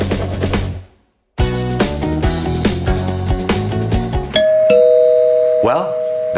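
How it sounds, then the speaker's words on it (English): A doorbell rings with a loud two-tone chime on a children's cooking show set, following bright background music that cuts out briefly. "That sounds like the doorbell."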